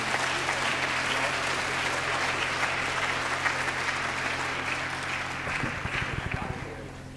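Audience applause at a gospel concert, a sustained dense clapping wash across the room that thins toward the end, with voices murmuring underneath.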